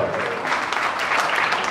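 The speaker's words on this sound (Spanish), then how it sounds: "Os voy a pedir un fuerte aplauso para estos dos chicos que se han prestado" Steady applause from an audience for two volunteers, many hands clapping in a continuous, fairly loud wash with no voices over it.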